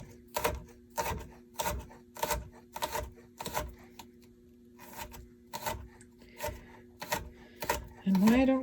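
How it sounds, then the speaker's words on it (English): A knife chops peeled garlic on a board in a steady series of about a dozen sharp, close taps with brief pauses. Near the end, a bit of talk comes in. "And now I chop the garlic."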